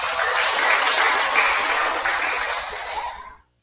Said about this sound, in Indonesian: Tepuk tangan buat dia itu.